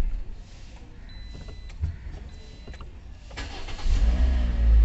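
A Toyota Corolla Altis with a faulty steering lock cranks and then catches into a steady idle. A faint electronic whine comes first, and a louder low rumble builds near the end.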